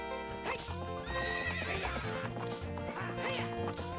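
Horse in The Legend of Zelda: Ocarina of Time whinnying during a race against Ingo, the neigh rising over game music with hoofbeat clip-clops, no talking.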